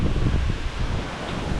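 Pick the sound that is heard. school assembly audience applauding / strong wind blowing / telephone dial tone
strong wind blowing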